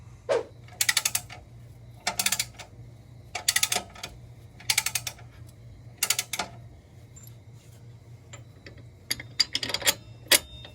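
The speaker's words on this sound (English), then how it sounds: "now I'm going to use this jack to lift the control arms and line up my bolt" A jack being worked to raise the lower control arms on a 2002 GMC Sierra pickup, giving sharp metallic ratcheting clicks in short bursts with pauses between, close and fairly quiet.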